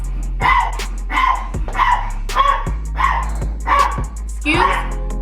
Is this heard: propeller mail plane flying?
no